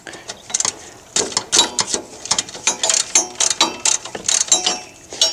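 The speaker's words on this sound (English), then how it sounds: "So I'm going to take my 3/8 drive ratchet and just loosen these." A 3/8 drive ratchet loosens alternator bolts on a Chevy Silverado, with close, crisp clicking in repeated short bursts separated by brief pauses.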